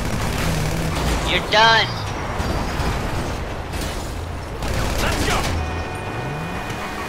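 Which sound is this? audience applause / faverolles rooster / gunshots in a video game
gunshots in a video game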